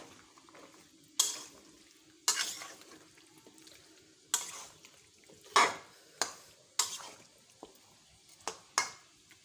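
Chicken curry being stirred and mixed in a pan, with a spoon scraping and clanking against the metal in about ten sharp strokes over a faint sizzle.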